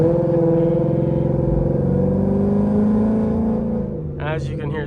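A Ford Mustang GT V8 with a burble tune idles and revs close by in a deep, loud, throaty rumble with a rising drone, then lets off into crackling, popping burbles.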